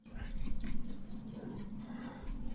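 A dog barks indoors in a few short, fairly quiet bursts close by, with some faint whimpering between them.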